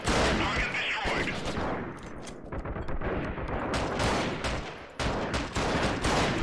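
Dense, continuous gunfire in the guerrilla warfare video game Freeman: Guerrilla Warfare, with rapid overlapping shots and bursts filling the whole stretch at steady loudness.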